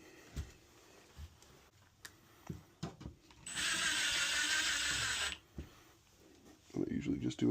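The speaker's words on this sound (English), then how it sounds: "I usually just do a couple little drywall screws" A power drill drives drywall screws during a Panasonic Whisper Quiet fan install, whirring loudly for about two seconds between scattered knocks and handling clatter, with a voice speaking near the end.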